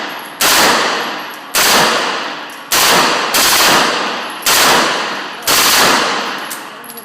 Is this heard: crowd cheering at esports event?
no